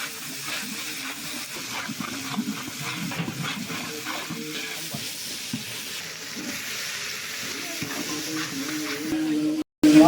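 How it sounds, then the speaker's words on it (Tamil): Mustard seeds, dried red chillies, onion and vegetables frying and stirred in a pan for sambar at a housewarming feast, a steady sizzle with scraping stirs throughout, with faint background voices. "மத்தியானம் சாம்பாருக்கு கடுகு தாளிப்பு போடு போட்டு வரமிளகாய், வெங்காயம் எல்லாம் போட்டு வெஜிடபிள்ஸ் ஆட் பண்ணுறாங்க"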